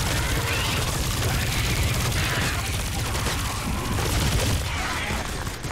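A turret in the Christmas-event Fortnite match fires a dense, continuous barrage of rapid shots for several seconds, loud and steady with no pauses.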